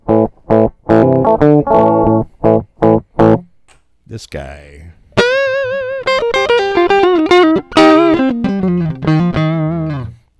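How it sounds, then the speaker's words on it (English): An electric guitar plays through its bridge and neck pickups, first in short bright chopped chords and then in a longer sustained melodic line with vibrato, loud and close. A brief spoken remark falls in the gap between the two parts. "I'm just going to switch over to the neck pickup and play the second part of the thing"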